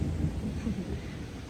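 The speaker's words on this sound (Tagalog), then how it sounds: "Nagkikidlat-kidlat talaga." Low, heavy rumble of thunder rolling steadily through a downpour, with dense rain noise filling the background throughout.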